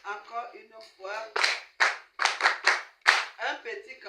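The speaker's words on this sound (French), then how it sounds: "Vous applaudissez en ordre. Applaudissons en ordre." At a masterclass, the audience gives another round of rhythmic unison clapping: roughly seven loud, sharp group claps in an even beat, with a person talking before and between the claps.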